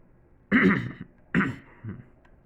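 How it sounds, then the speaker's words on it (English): A person clears their throat in three short bursts, close to the microphone, the last one softer, with quiet pauses between. "Sorry for clearing my throat."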